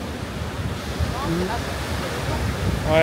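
Rough, churning sea surf breaking on a beach at Zarzis, Tunisia, a steady loud wash of waves under brief speech.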